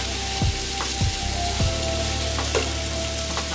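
Cabbage and sausage fry in a hot pan with sugar stirred in, a steady loud sizzle running throughout while a utensil scrapes and knocks against the pan bottom every half second or so.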